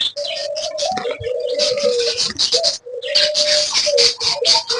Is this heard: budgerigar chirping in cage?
yes